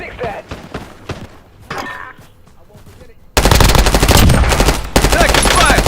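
Automatic gunfire in Call of Duty Warzone erupts halfway through as a loud, sustained rattle of rapid shots, following quieter footsteps and voice callouts, with a brief gap before the firing resumes.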